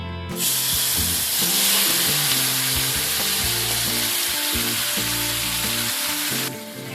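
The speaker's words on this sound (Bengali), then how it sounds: "তেল গরম হয়ে গেলে এর মধ্যে নুন হলুদ মাখানো চিংড়িগুলোকে দিয়ে দিচ্ছি।" Prawns coated in salt and turmeric drop into hot oil and fry with a loud, dense, steady hiss and crackle that starts abruptly and holds throughout, close by, with no talking.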